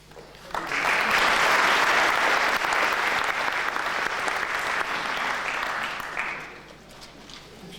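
An audience at a university inauguration symposium applauds after a presentation, a dense and even burst of many hands clapping that lasts several seconds before fading out.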